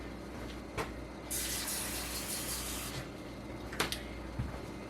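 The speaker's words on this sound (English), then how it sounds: "So I'm gonna put a little bit more water." Water pours into a jar of home-canned fajita beans, a close steady splashing stream lasting a couple of seconds, framed by a few knocks and clinks.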